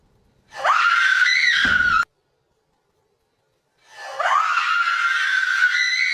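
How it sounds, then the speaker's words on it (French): A woman screams loudly in fright at a large tarantula, with two long, piercing cries separated by a couple of seconds of silence. "Je t'ai entendu crier, il y a un problème?"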